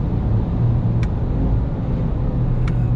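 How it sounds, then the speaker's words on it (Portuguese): A Ford Ranger Raptor pickup's exhaust gives a steady, loud, low engine rumble heard from inside while the truck runs, with two faint brief clicks over the drone and no talk. "E o som do escape, hein?"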